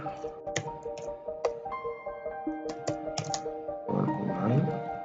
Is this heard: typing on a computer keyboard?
yes